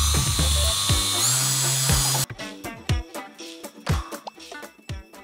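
A grinder fitted with a 5-inch eccentric polishing head with an 18mm throw, running a new wool pad on car paint, whines steadily and loudly for about two seconds, then stops, leaving scattered clicks and knocks.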